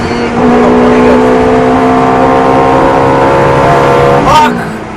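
A race car on a track roars with a steady, loud engine drone under a driver's talk, then shifts abruptly near the end before the sound eases off.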